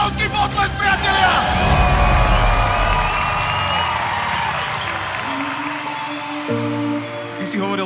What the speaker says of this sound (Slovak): obrovský potlesk, priatelia!